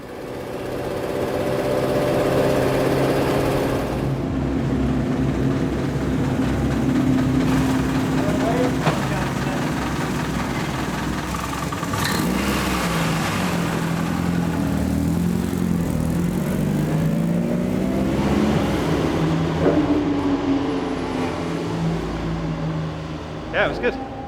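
A 100-year-old Bentley race car with a damaged exhaust during a 24-hour race, its engine droning continuously with a rough, throaty rumble and shifting revs, near and loud throughout, with a voice talking over it.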